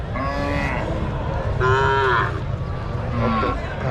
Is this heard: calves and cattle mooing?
yes